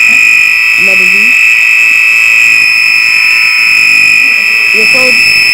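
Fire alarm sounding during a fire alarm system test: a loud, continuous high-pitched electronic tone that holds steady throughout, with people talking briefly underneath.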